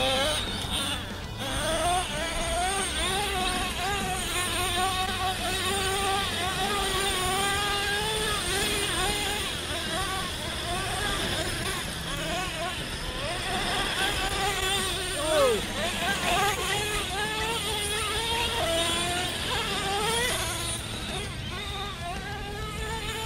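Traxxas E-Revo and Revo 3.3 RC cars drive and race, producing a whiny buzzing motor sound that rises and falls in pitch as they accelerate and turn, with people talking throughout.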